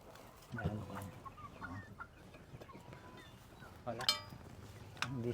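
Chickens cluck in short bursts around a yard, with people talking and laughing over them; a louder squawk stands out near the end.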